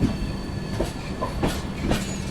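Train rolling through Udhampur railway station, a hill-ringed station, with rhythmic clickety-clack of wheels over rail joints in a loud, continuous rumble and no talking.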